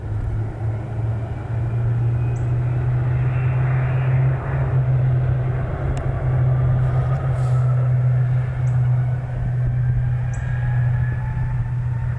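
King Air turboprop airplane taking off, a loud, steady engine drone with a strong low hum, sustained throughout and heard from nearby outdoors.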